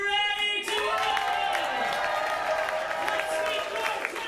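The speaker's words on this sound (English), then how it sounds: "can I get another cheer?" A live studio audience cheers and applauds at a mock presidential candidate show. A loud, sustained wash of crowd noise mixes with tonal music or voices throughout.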